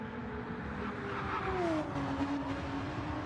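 A Porsche race car engine driven hard at the Nürburgring 24-hour race, a loud continuous high-revving drone with the pitch sliding down as it shifts, no voices.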